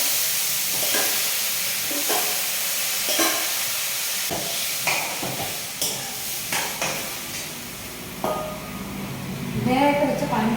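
Mashed cooked pumpkin stirred and frying in a pan, with a steady sizzle and hiss under repeated scrapes and knocks of a spoon, growing busier toward the end.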